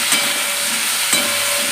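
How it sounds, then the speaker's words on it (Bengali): Gyadal leaves frying with salt and turmeric in a pan, a loud steady hiss of sizzling oil with two brief stirring knocks, close up and with no talk. "হালকা করে নুন হলুদ দিয়ে ভেজে নিচ্ছি"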